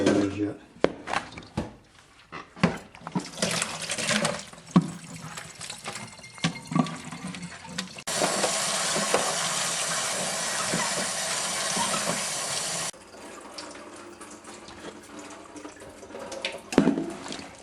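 Tap water runs steadily into a kitchen sink while pickles are rinsed for a sweet pickle recipe, a broad rushing stream that swells loudest in the middle, with clatter of handling and a person speaking at times.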